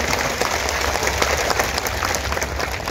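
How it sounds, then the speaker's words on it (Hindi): Dense, steady applause fills a rally crowd welcoming Vikram, loud and close, with no pauses. "विक्रम भाई खड़ा हो जा, जोरदार ताली बजा के स्वागत कर।"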